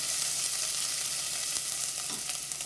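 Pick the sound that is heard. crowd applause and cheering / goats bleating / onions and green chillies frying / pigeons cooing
onions and green chillies frying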